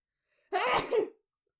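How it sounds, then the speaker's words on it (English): A single sharp sneeze, loud and close, bursting out after a brief quiet breath and ending quickly. "I'm gonna sneeze."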